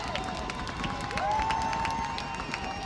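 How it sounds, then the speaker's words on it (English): Randolph-Macon fans cheer their team on at a college football game. A broad, distant crowd roar holds steady in the background of the stadium, with scattered claps and whistles and a faint voice nearby. "The Randolph-Macon faithful attempting to cheer their team on"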